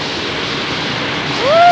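Steady rushing river water flows close by, a broad constant wash with a faint whistle-like tone near the end.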